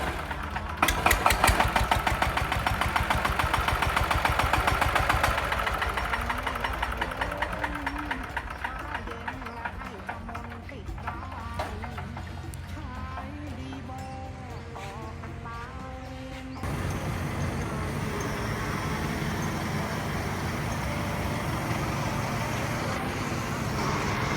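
Kubota or Yanmar small diesel engine fitted with a newly installed starter kit, running steadily with a loud continuous mechanical clatter and hum, with a shift in tone partway through; voices talk over part of it.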